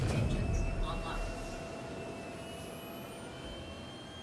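The Anvil Hawk spaceship in the game Star Citizen powers up with a low engine rumble and a rising whine, a thin tone climbing steadily, fairly quiet and loudest at the start.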